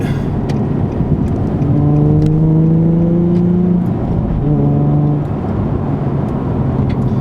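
Nissan 350Z/370Z fitted with an Invidia Gemini cat-back exhaust and Berk Tech high-flow cats, heard from inside the cabin: a loud low drone that rises in pitch under acceleration, eases off, then climbs again.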